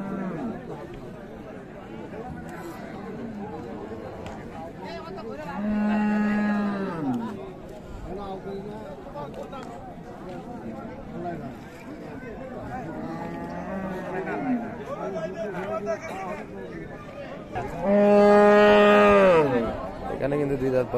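Dairy cows at Raniganj cattle market let out two loud, drawn-out moos several seconds apart over a constant murmur of crowd chatter and nearby talking.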